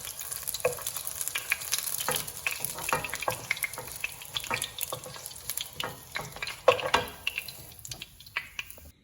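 Eggs fry in a generous amount of hot oil, giving a steady crackling sizzle with scattered pops and spits, close and fairly loud, with no voices over it.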